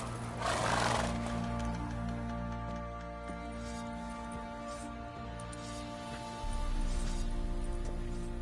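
Roach the horse running in the video game The Witcher 3, a steady galloping rhythm under a sustained musical score, with a neigh-like burst near the start and the loudness swelling again toward the end.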